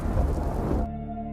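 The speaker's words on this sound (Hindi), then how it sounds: "तभी अचानक बिजली कड़की और तेज बारिश होने लगी" A dense, rumbling roar of heavy rain with low thunder underneath, loud and close, cutting off abruptly near the end.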